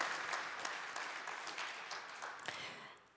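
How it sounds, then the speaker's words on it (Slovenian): Audience applause at an awards ceremony during Slovenian wood industry days, honouring a winning product: a steady, dense wash of many hands clapping throughout, fairly soft and slightly distant, thinning out at the very end. "Iskrene čestitke in en velik aplavz vsem trem"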